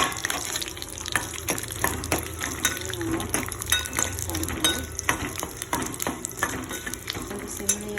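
Curry leaves and chana dal frying in hot oil for a tamarind rice tempering, a steady crackling sizzle with stirring scrapes throughout, close and fairly loud.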